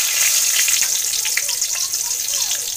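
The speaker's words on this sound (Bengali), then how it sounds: "সামান্য একটু জিরে ফোড়ন দিয়ে দিলাম" Cumin seeds tempering in hot oil, a bright, crackly sizzle with scattered pops that thins slightly toward the end, heard close and alone.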